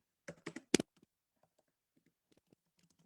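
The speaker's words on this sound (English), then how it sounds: "So I'm going to type it in here." Typing on a computer keyboard: a quick cluster of loud, close key clicks at first, then sparse faint taps trailing off.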